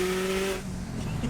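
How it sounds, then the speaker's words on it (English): Turbo dump from the turbocharger of a loud 14-year-old car: a sharp, hissing whoosh with a whistling tone that cuts off after about half a second, leaving a lower rumble close by. "It's dumps from the turbo."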